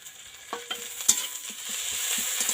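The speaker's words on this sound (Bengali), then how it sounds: "এটাও ভালোভাবে কষিয়ে নেব, লাল লাল করে ভেজে নেব।" Young jackfruit fries with ginger garlic paste in a pan, giving a steady sizzle that grows slightly louder. A few scraping and clinking stirs stand out over it, and no one speaks.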